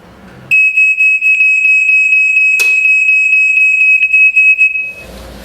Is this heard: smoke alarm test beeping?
yes